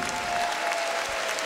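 An audience at a Romanian folk music show, the Potcoava de Aur concert, applauds in a dense, steady wash of clapping throughout.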